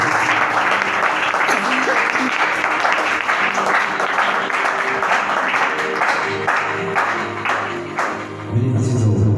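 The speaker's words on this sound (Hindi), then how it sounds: "आए खुदावंद यीशु मसीह के लिए जोरदार तालियां" Loud, sustained applause from a church congregation fills the room, a dense wash of clapping with crowd murmur, fading slightly near the end as a voice begins over it.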